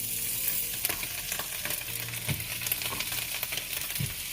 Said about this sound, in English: once your oil is hot, put your paneer